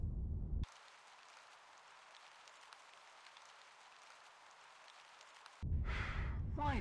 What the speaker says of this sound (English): Why does it always rain in England?